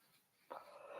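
A dog gives a high, drawn-out whimper that starts suddenly halfway through and holds steady, close by over a quiet indoor background.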